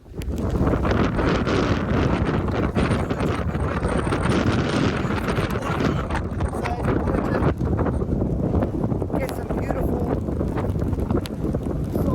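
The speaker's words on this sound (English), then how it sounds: "There's some beautiful windy weather" Strong wind roars steadily into the microphone, a dense blustery rush with gusts throughout and no talking.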